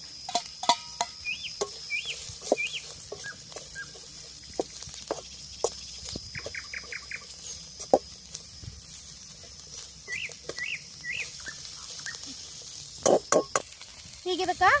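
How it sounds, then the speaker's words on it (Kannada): Roasted chillies added to a hot frying pan, giving a faint steady sizzle with scattered clinks and scraping of stirring, plus occasional bird chirps in the background. "ಈಗ ಈ ಮೆಣಸಿನ್ಕಾಯಿ ಹುರಿದಿಟ್ಕೊಂಡಿದ್ವಲ್ಲ ಇವನು ಹಾಕ್ತಾನೆ ನೋಡಿ"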